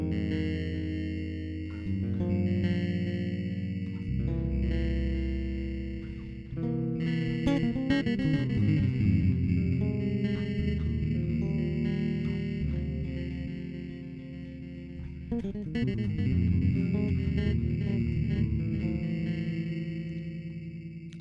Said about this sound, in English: It sounds kind of like a bit crusher